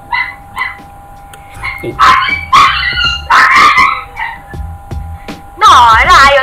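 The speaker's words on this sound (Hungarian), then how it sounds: "A kutya ugat." A dog nearby lets out a loud series of barks and yips, mixed with whimpering, in irregular bursts over a faint steady tone.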